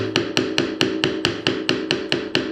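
Hammer tapping a kitchen gas pipe into its fitting, about a dozen sharp metallic knocks at a steady brisk rhythm, close and alone.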